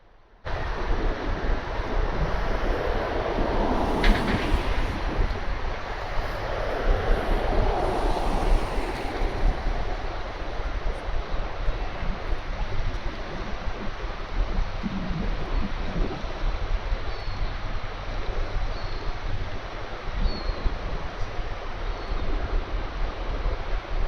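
Deep, steady engine rumble from the Queen Mary 2 ocean liner, heard as a continuous low drone under wind buffeting and a sea-surf wash, with no talking.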